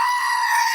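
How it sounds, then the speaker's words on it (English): A screaming goat toy lets out one short, loud, shrill bleating scream lasting under a second. "The screaming goat."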